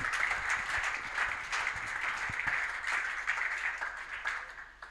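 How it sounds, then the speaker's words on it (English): A church congregation applauds during a sermon, a steady wash of clapping that holds at an even level and fades slightly toward the end. "Qui peut acclamer pour l'Éternel? Who can applaud for the Lord?"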